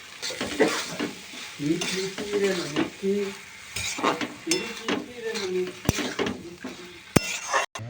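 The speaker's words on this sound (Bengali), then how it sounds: "মশলাটা কষা হয়ে গিয়েছে, এবারে ডালগুলা দেওয়া হবে।" Split black lentils go into a sizzling pan of fried spice paste and are stirred with a utensil, with scraping, clinking and frying sizzle up close, and a voice talks intermittently under the cooking.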